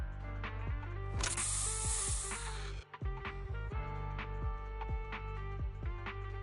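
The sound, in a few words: Bang Boo spray being sprayed in video game Zenless Zone Zero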